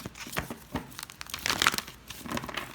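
Crisp riffling and crinkling of a deck of tarot or oracle cards being shuffled by hand, close and moderately loud in bursts with a denser flurry midway, no talking.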